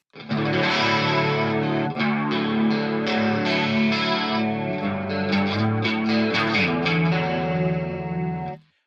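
An electric guitar strums chords in DADF#AE open tuning that ring out fully, heavily processed with chorus, echo and slight distortion, playing on without pause.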